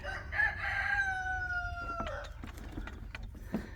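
A rooster crows once nearby, a long clear cock-a-doodle-doo rising and then holding steady before it breaks off, followed by softer clucks and faint rustling in a quiet setting.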